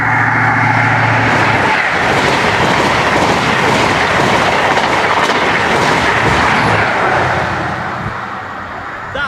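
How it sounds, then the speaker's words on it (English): An HST Class 43 diesel train roars past a level crossing at close range, a loud sustained engine drone and rushing rail noise that slowly fades at the end. "It's an HST class 43 diesel traction."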